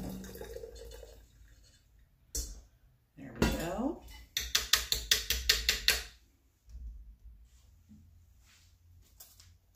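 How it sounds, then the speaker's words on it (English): Blue ternate flower tea poured through a strainer into a pitcher, with clinks and clatter of dishes and a rapid run of sharp taps, then quieter splashing and trickling of liquid. "So, pouring this into my pitcher, but I'm straining my flowers out."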